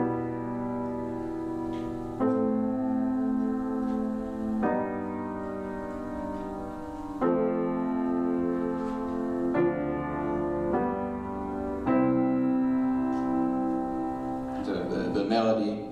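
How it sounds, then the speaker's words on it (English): Piano-like chords played with a descending left-hand harmony in a songwriting study piece, sustained chords changing every two seconds or so at steady loudness, heard alone with no talk. "so this is descending harmony left hand when you couple it with chords,"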